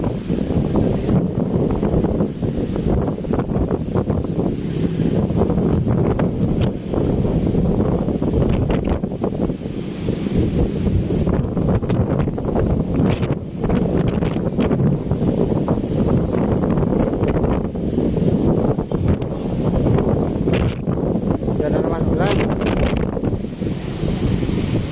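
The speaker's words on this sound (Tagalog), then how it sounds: "malakas na naman alon" Strong sea waves crash steadily against the Manila Bay seawall, a loud, continuous roar of surf with heavy wind buffeting the microphone throughout.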